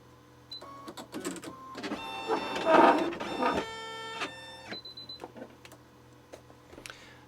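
Baby Lock sewing machine running through a short calibration and stitching cycle, with mechanical whirring, clicks and tonal motor whines rising to a busier burst midway, close and alone.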